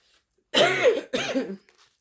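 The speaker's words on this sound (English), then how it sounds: "As I cough and can't breathe" Two harsh, raspy coughs in quick succession, close and fairly loud, with near silence before and after.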